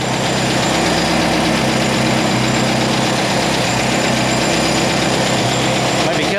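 An air-cooled Volkswagen engine fitted with a Solex H30/31 PICT carburetor idles loudly and steadily up close, its even, rough running filling the whole stretch while someone talks briefly over it.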